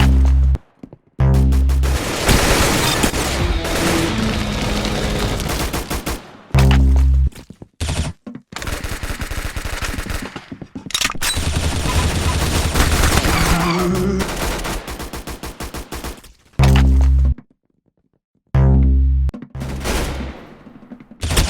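Gunfire from the Roblox shooter Arsenal comes in loud, dense rapid bursts and repeated single shots, broken by short silent gaps, with heavy booming hits recurring between the volleys.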